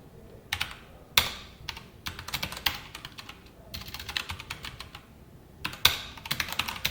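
Code typed on a computer keyboard during a Java text-board programming lesson, heard as close, fast bursts of key clicks with short pauses between runs and no voices.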